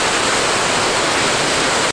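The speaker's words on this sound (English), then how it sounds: "when they said waterfall, I was expecting like a little stream" A large waterfall in a gorge in the Syunik region of Armenia roars as a loud, continuous broadband rush, steady throughout and cutting off abruptly at the very end.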